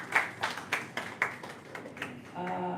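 Scattered clapping from a lecture audience, a handful of distinct claps at a quick uneven rhythm, moderately near, before a sustained tone takes over at the end.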